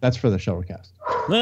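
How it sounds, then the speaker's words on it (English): Dogs yip and bark in quick bursts close by during an indoor chat, the short barks tangled with and partly under people talking. "Sorry about the dogs."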